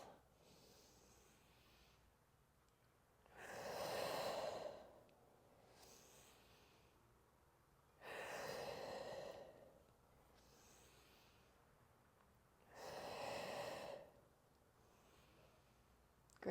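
Deep breathing during a pelvic floor mobility workout, three slow, audible breaths at regular intervals, close and soft, with near silence between them.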